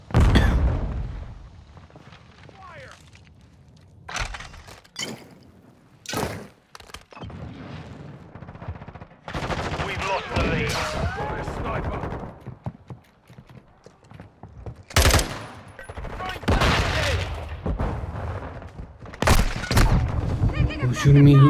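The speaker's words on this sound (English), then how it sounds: "Shooting me, who's shooting me?" Gunfire in a Modern Warfare 2 team deathmatch match: several sharp bursts of shots and booms at intervals, some loud and close, separated by quieter game ambience, with a player talking throughout.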